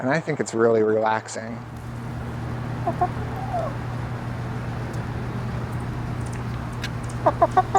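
Backyard hens making soft, contented murmuring coos, faint and low beneath a steady background hum, with a few clucks near the end after a person speaks at the start.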